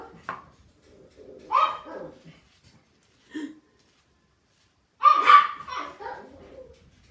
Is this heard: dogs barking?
yes